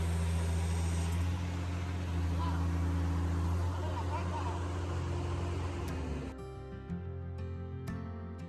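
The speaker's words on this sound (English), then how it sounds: "So engine just started without a key." A boat engine, started without a key by bypassing the switch, runs with a steady low idle drone and hum under voices, dropping in level partway through.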